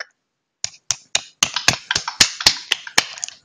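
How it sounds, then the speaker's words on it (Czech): One person claps alone, about a dozen sharp, crisp claps after a brief silence, quickening into an uneven rhythm, close and fairly loud with no talking. "Ty si sám tleskáš, vole."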